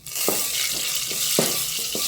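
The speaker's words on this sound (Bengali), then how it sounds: "ফোড়নটা রেডি হতে থাক।" Panch phoron spices sizzling in hot oil as a tempering for dal, a loud continuous close crackle with a few soft clinks of a spoon stirring the pan.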